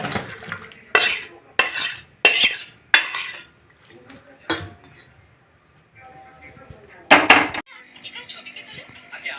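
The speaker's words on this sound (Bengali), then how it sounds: "এটা শক্ত সব আলুই গলে গেছে এই যে তরকারিটা নাড়তে নিচ্ছি" A metal spoon stirs soft potato curry in a pot, producing a row of sharp scraping clatters in quick bursts, then quieter clinks and a final loud scrape, with a faint voice briefly in between.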